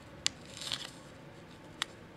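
Scissors snip through a paper pattern in quiet sharp cuts, one near the start, a softer rustle after it, then another crisp snip, all faint and close, with no talking.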